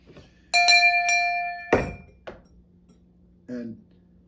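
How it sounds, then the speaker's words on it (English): A school bell rings in a few bright, quick metallic strikes with ringing overtones, followed by a duller knock and a short clink a moment later. "And the school bell."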